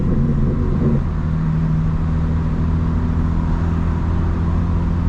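A 2025 BMW M4 Competition cruising on a hot road, its engine a steady low hum with tyre and road rumble, briefly louder at the start before settling into an even drone.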